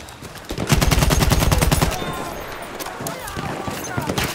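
Machine gun fire in the Battlefield video game, a loud rapid burst of evenly spaced shots lasting more than a second, followed by scattered battle noise and fainter shots.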